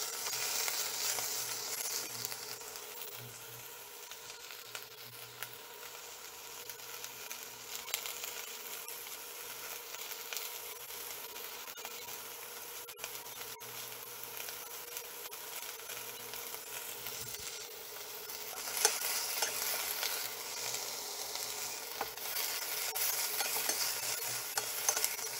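Pork frying in a pan while being stirred, a soft, steady sizzle with faint scraping that swells louder toward the end, heard without any talk.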